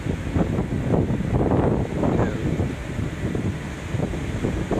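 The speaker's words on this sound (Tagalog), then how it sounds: "Ayan, ang lakas ng hangin sa taas." Strong wind buffets the microphone aboard a boat at sea off Occidental, with big waves surging around the hull in a loud, rough, continuous roar.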